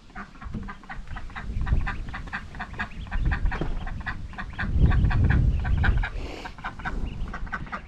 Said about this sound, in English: Some of you have been asking about our ducklings. Well, they're sunning themselves out here.